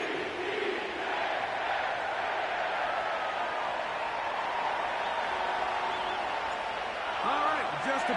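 Stadium crowd noise in Madden 25 at M&T Bank Stadium in Baltimore, a dense continuous roar of cheering fans under a broadcast-style voice, with a few louder swells near the end.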